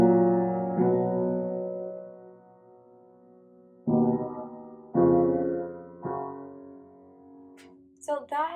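Piano chords from the verse of a song, five sustained chords struck one after another and left to ring out and decay, with a brief voice starting at the end.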